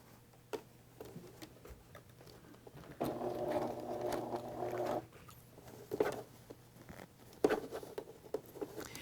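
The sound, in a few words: sewing machine basting stitch on a set-in sleeve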